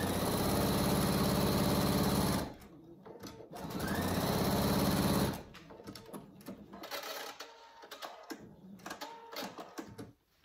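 A sewing machine stitches fabric for a cat carrier cover in two steady runs of fast whirring, separated by a pause, followed by scattered clicks and handling noises.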